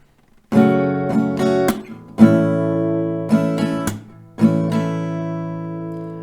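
Strummed acoustic guitar chords ring out alone, several bright strokes in a loose rhythm, each chord sustaining and changing every second or so.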